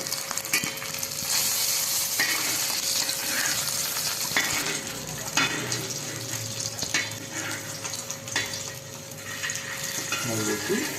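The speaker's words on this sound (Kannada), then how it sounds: "ಇವಾಗ ಟೊಮ್ಯಾಟೊ ಇದನ್ನ ಹಾಕಿದ್ರು ಫಿಶ್ ಹಾಕಿದ್ರು ಈ ಥರ ಫ್ರೈ ಮಾಡ್ಕೋಬೇಕು" Fish and tomato frying in a pan, a steady loud sizzle with occasional stirring scrapes and clatter throughout, while a voice speaks faintly in the background.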